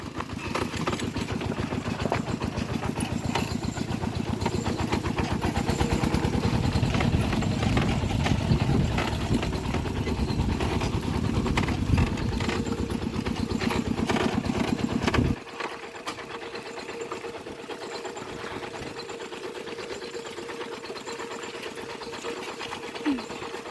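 A steady, rhythmic engine idles nearby for about fifteen seconds, then drops abruptly to a quieter, lower hum.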